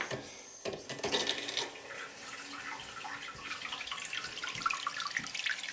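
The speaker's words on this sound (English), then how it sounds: "And that will fill the tank, and then once the tank is filled, we'll flush the toilet" A toilet tank filling with water after its shut-off valve is opened, a steady hissing trickle and splash heard close up with small gurgling bursts, with nothing spoken over it.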